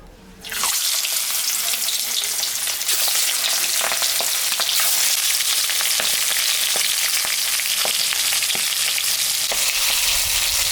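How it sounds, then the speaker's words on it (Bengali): Boal fish, salted and coated with turmeric, fries in mustard oil with a loud, continuous crackling sizzle that starts abruptly after a brief quiet moment and holds steady throughout, with no voices. "মাছটা এখন আমি ভাজবো।"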